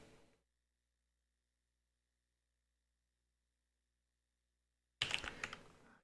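A computer keyboard clicks in a brief, close burst of typing at the end, after a faint tail of keystrokes and a long stretch of silence.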